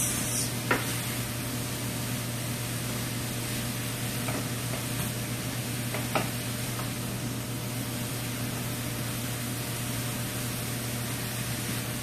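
Zucchini, squash and tomatoes cook in a skillet, giving a steady, soft sizzle with a few faint clinks of stirring and no talking.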